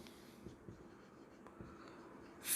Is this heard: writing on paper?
yes